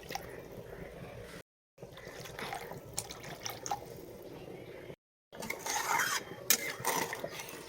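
Water poured into a cooking pot while preparing hilsa fish, a faint, soft watery splashing with light clinks of utensils, interrupted by two short silences and growing a bit busier near the end.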